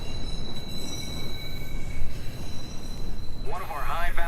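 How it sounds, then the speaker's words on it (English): An in-game train pulls into a station in Watch_Dogs, a steady rumbling roll with a high whining tone, and a brief squeal near the end; a voice speaks over part of it. "Southbound train arriving shortly."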